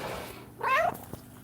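A single short meow from a cat, close and clear, rising then falling, with quiet room noise around it.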